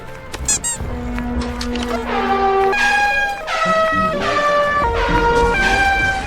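Loud, tonal vehicle horn blasts sound in a stepped, shifting series of pitches, one after another with brief gaps, close and insistent.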